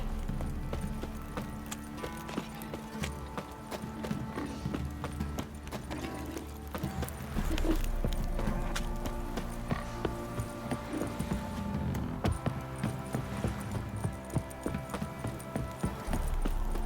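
Horse hooves clip-clop steadily in The Witcher 3, a continuous rhythmic trot layered over game music and ambient sound, fairly close and at moderate volume without speech.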